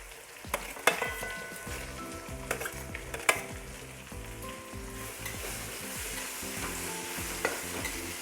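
Chopped onions and ginger-garlic paste fry in hot oil for tawa pulao, a steady close sizzle broken by repeated spatula scrapes and sharp clinks against the pan, with no voices.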